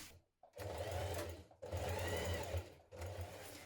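A domestic sewing machine stitches the short-edge seams of a jean jacket band with a 1.5 cm seam allowance, running in three steady bursts separated by brief pauses, close and loud.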